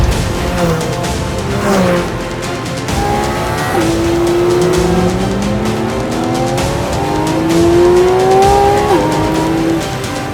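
Porsche 718 GT4 RS engine climbing loudly toward high RPM, its rising tone sweeping upward in repeated pulls with brief shift dips, close and alone with no talk.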